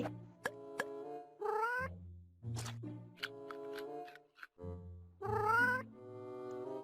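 A cat in a Thai-dubbed Minecraft cartoon meows over and over, giving a run of clear, drawn-out, rising and falling cries separated by short pauses, loud and close with nothing else in the way.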